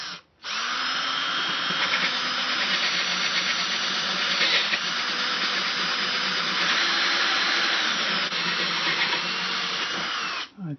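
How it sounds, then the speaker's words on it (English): A stronger power drill fitted with a 1/2 inch bit bores through the body of a Kala 8-string baritone ukulele, a loud, steady, high whine running almost unbroken for about ten seconds, starting and stopping abruptly. "I think I need to get my stronger drill and finish it off just so it'll be nice and clean."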